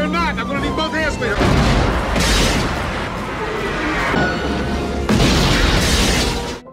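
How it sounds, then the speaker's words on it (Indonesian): A film action scene is loud and continuous: explosions blow apart buildings with deep booming blasts, crashing debris and rumbling, and a sharp new burst hits partway through. "Lalu tiba-tiba saja terjadi ledakan"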